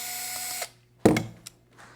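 A power tool backing out hex-head number 6 screws, 3/4 inch long, from a vehicle fender mount: a short whirring run, then a brief rattling, ratcheting burst and a couple of small clicks close by, with no talking.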